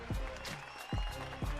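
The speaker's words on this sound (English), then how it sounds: "Soul clap? That's soul clap?" A group clapping along at a radio morning show, with a few loud, separate claps spaced across a short stretch over a busy, noisy room.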